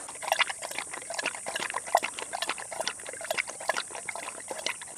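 Max the dog laps water at a jungle campsite, a quick, steady run of wet slurps and splashy licks at close range, with no talking.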